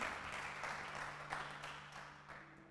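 Church congregation applauding, steady broad clapping at moderate distance in a reverberant hall, fading slightly over a few seconds with a low hum beneath.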